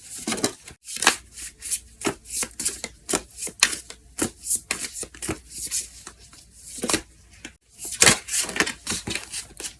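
Tarot cards being shuffled for a reading, a quick series of crisp riffles and snaps with short pauses between, close to the microphone and with no talking over them.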